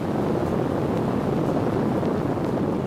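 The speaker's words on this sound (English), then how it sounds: "This is the noise produced by the LEM's ascent engine during a ground test." A lunar module (LEM) ascent engine firing during a ground test makes a continuous broadband roar, loud and constant throughout with no breaks or voices.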